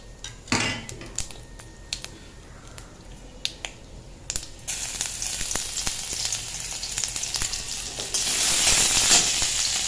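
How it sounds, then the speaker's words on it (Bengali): Nigella seeds and chopped ginger hit hot mustard oil left from frying pabda fish. Utensils clink and tap at first, then the sizzle swells in two stages into a loud, steady, close hiss. "মাছ ভাজার তেলের ওপরে আর একটু সর্ষের তেল দিয়ে আবার তার উপরে দিয়ে দেবো কালো জিরে"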